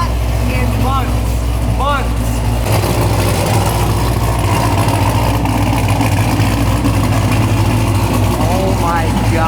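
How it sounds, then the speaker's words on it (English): A car engine runs steadily at idle in a low, continuous rumble, with faint whistling tones rising early on and again near the end. "This is the first time I've heard that car start up and like run like that in months."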